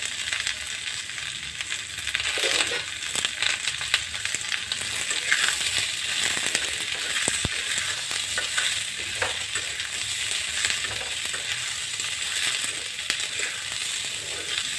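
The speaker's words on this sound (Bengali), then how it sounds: "দিয়ে দিচ্ছি চৌকো করে কেটে রাখা পেঁয়াজ।" Diced square pieces of onion and capsicum sizzle steadily in a hot pan for chilli fish, giving a continuous close frying hiss with faint scraping and stirring crackles throughout.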